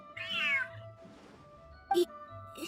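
A cat in the Genshin Impact video game gives a drawn-out meow followed by a shorter, higher mew, heard clearly over soft game background sound with a faint voice.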